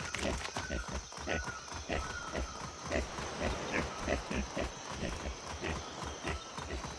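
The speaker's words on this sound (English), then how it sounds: "Yeah, these pigs are good." Pigs grunt in the video game Atlas, a steady stream of rapid snorts and trotting steps at moderate volume, with a faint background drone.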